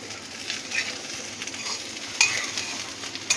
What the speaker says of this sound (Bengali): ভালো ভাজা ভাজা হচ্ছে।